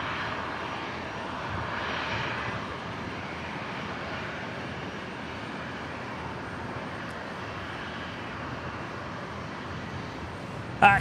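Qantas airliner arriving at Brisbane Airport from Mackay, landing on runway 01 right; a steady, broad engine roar held at even loudness for the whole stretch, with no voices over it.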